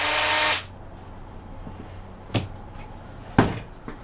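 A Ridgid cordless drill fitted with a spade bit whirs loudly for about half a second, then stops, followed by a couple of sharp knocks in a quiet room.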